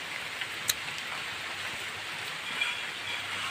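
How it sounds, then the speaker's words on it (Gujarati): Soft, steady patter of light winter rain, a gentle continuous hiss with a few faint drops standing out. "દેખાતો હશે તમને વરસાદ થોડો થોડો"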